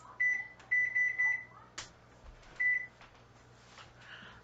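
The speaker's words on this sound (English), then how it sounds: "Let me set the timer," An oven timer beeps sharply in short bursts as buttons are pressed to set it in a kitchen while making a pasta bake, several close, clear tones separated by clicks and quiet.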